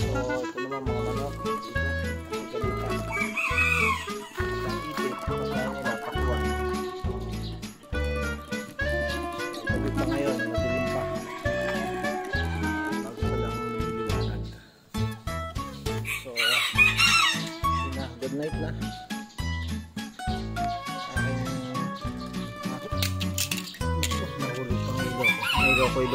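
Chickens cluck and a rooster crows repeatedly over a steady rhythmic music-like backdrop, the birds close and fairly loud throughout.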